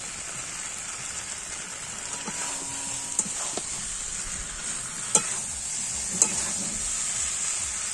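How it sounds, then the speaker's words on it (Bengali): Cauliflower florets sautéing in a pan for a vegetarian dish, a steady bright sizzle with occasional scraping stirs and sharp clinks of the spatula against the pan. "এইভাবে আমি খানিকক্ষণ কষিয়ে নেব"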